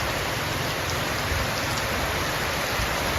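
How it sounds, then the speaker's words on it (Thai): Steady morning rain falling in a continuous hiss of drops on surfaces, even and fairly loud throughout with no voices or other sounds. "ฝนตกนะคะอากาศชุ่มช่ำในเช้าเลยวันนี้"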